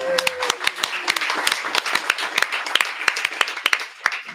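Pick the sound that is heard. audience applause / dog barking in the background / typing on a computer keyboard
audience applause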